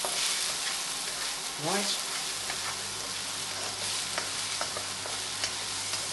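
Garlic and mushrooms sizzle steadily in a frying pan while being stirred, with soft scraping movements over the constant crackle; a single brief spoken word is heard.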